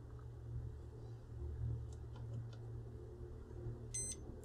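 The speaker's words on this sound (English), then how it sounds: "You hear a single beep. Not a continuous beep." A multimeter gives a single short beep near the end while testing the board of a Sony SA-WP780 active subwoofer, heard over a low, steady electrical hum in a quiet room.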